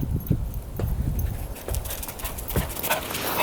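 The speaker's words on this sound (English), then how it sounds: "Where is that dog at?" A dog comes up a driveway in winter, with close, uneven patter and scuffling of paws and tags, a few soft whimpery snorts and clicking steps, loud and alone with no talking.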